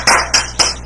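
Clapping for a class, heard as three loud, broad bursts of applause-like sound spaced about a quarter second apart, with no talking.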